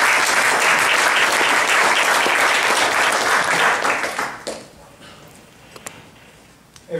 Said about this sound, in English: can we give these guys a round of applause before we start?